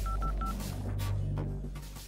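A few short electronic keypad beeps from a phone being dialed, evenly spaced at the start, over a steady low background hum.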